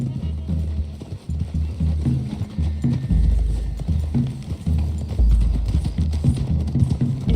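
Horses galloping in the video game Red Dead Redemption 2, a steady clip-clop of hooves with heavy low thuds, close and continuous, with faint voices in the background.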